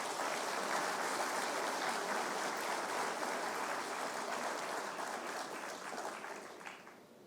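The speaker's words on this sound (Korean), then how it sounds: "뜨거운 박수 좀 쳐주시기 바랍니다." Warm, dense applause from the audience at a formal Science and ICT Day ceremony. It is a steady crowd clapping that holds evenly for several seconds, then tapers slightly at the end, with no voices over it.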